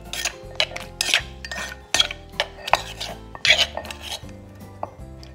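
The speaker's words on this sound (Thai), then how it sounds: "จากนั้นก็คลุกเคล้าให้เข้ากัน" Spoon clinking and scraping around a bowl while Thai papaya salad dressing is mixed, with a brisk irregular rhythm of sharp metallic clinks and rubbing scrapes, close and fairly loud.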